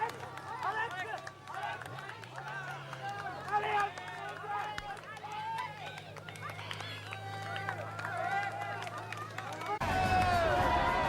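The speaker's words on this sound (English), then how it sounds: "you know when you arrive at Alpe d'Huez because the crowds are dense and they're cheering everything they can" Dense crowds of spectators line the Alpe d'Huez climb at the Tour de France, a continuous roar of cheering and shouting that swells louder near the end, with a commentator's voice talking over it.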